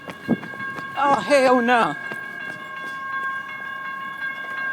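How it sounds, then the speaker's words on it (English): A train passes nearby on a walk, giving a steady, ringing tonal hum with a faint rumble that carries on after someone speaks briefly over it near the start. "And there's the train."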